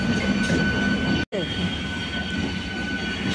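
Balichak local train running on its line, a steady loud rumble of the railcars with faint wheel squeal, broken by one very short dropout partway through.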